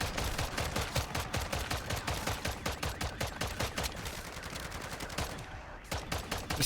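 Rapid automatic gunfire in MW3 Zombies: a steady, fast stream of evenly spaced shots for several seconds, close and continuous, with a brief easing near the end.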